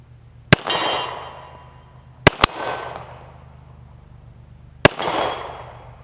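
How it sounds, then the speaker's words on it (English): Three pistol shots from a Smith & Wesson Performance Center 1911 firing Freedom ammunition at 25 yards. The shots are sharp and loud and spaced a couple of seconds apart, with the second shot a quick double crack and each one trailing off in an echo. "Smith Wesson PC 1911. Performance Center. Shooting freedom ammunition, 25 yards."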